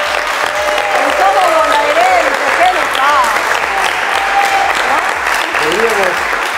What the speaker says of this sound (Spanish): Fuerte el aplauso por para nosotros.